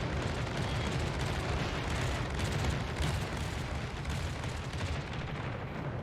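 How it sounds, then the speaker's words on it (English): Dense, continuous rumble of explosions and booming impacts as torpedoes strike a ship during a naval battle in World of Warships Legends, loud and unbroken throughout with no talk. "we're finally finding our mark with those torpedoes"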